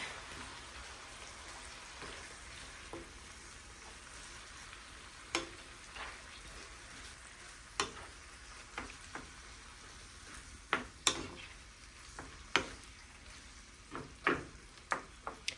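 Spaghetti ingredients being mixed in a pan over steady low sizzling, with scattered sharp utensil scrapes and taps that grow more frequent toward the end, no talking.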